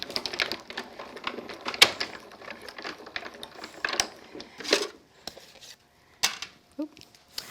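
A die-cutting machine cranks a card sandwiched with wax paper, giving a close run of mechanical clicks and ratcheting clatter with sharper knocks, then a few separate clunks near the end.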